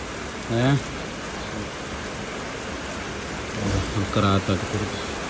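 Rain falls steadily during concrete roof-slab work at a house under construction, a broad, even hiss throughout, interrupted by two short stretches of people talking nearby.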